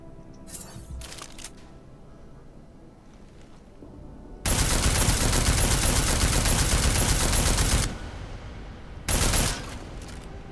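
Gunfire in Deus Ex Mankind Divided: loud sustained automatic bursts lasting several seconds, with a short second burst after a pause and a few faint shots before, no talking.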